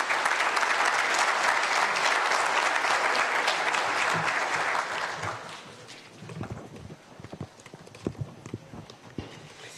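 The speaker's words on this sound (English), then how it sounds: "I think he needs a big round of applause and encouragement." Applause from an audience at an international symposium on agricultural innovation, loud dense clapping for the first five seconds, then thinning to scattered claps and rustle.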